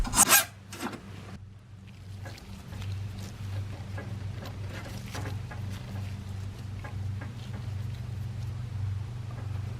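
Brake line having its outside edge beveled before flaring, a rough, continuous filing and rubbing scrape after a few sharp handling knocks at the start.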